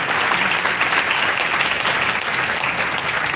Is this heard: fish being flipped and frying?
no